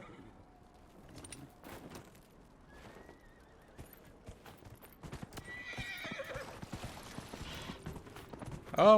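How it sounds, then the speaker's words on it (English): Hooves clip-clop from a horse in the video game Dragon Age: Inquisition, quiet at first then building into faster galloping, with a whinny and clatter near the end. "Off I go on the giant fucking horse."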